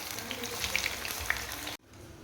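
Cauliflower 65 pieces deep-fry in hot oil, giving a steady close crackling sizzle with scattered pops that stops abruptly near the end, leaving faint room noise.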